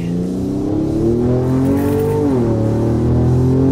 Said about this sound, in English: Take it all the way up through the RPMs so you can get a good feel of what it sounds like